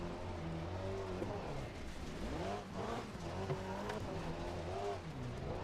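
Rally car in Richard Burns Rally sliding on gravel, engine droning and revving steadily with shifting pitch as tires scrabble, loud and continuous throughout.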